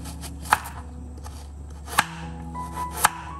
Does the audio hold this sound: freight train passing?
no